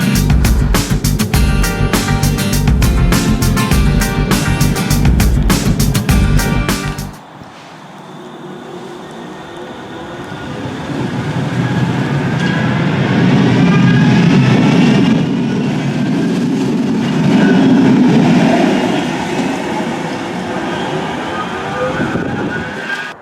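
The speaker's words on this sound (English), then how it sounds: "So the tram's just coming in now." A Manchester Metrolink tram pulls in at Heaton Park on the Bury Line. A loud rumbling clatter stops abruptly, then a lower rolling hum rises and swells, with faint squeals over a steady roar.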